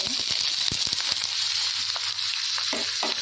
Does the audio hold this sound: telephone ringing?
no